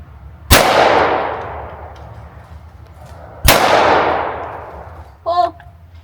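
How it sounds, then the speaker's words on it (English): Two sharp, loud shotgun blasts from a Blaser FBX over/under at clay targets, about three seconds apart, each ringing out and decaying; a brief voice follows the second shot. "All right, so I'm going to shoot the big guy, the Blaser FBX."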